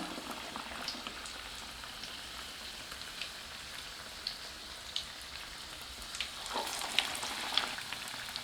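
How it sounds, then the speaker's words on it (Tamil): Raw banana bajji deep-frying in hot oil give a continuous dense sizzle and bubbling with small pops and crackles throughout, close and steady, with no talking. "இந்த மாதிரி நம்ம பஜ்ஜி போடும்போது நல்லா உப்பலாகி வரும்"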